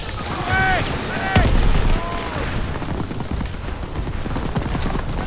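Bursts of machine-gun fire crackle through a WWII video game battle, rapid volleys over a busy background of combat noise, with someone speaking French over the shooting.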